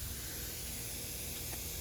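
A Buckner rocker jet part-circle sprinkler sprays water in a steady, close hiss of spray that runs unbroken throughout, with no voices.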